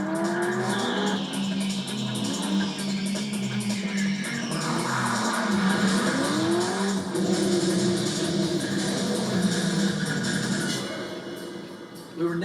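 A Corvette Z06 driving hard through tight spaces near walls, engine droning steadily with rising tire squeals and revs, while people talk over it.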